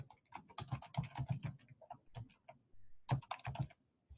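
Typing a contact name and email into a tax form on a computer keyboard, with bursts of rapid keystrokes broken by short pauses, close and fairly quiet.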